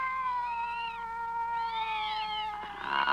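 Cat meowing in a French dub of the animated series Heidi, with several long rising-and-falling meows layered close together and overlapping through the whole stretch, loud and clear.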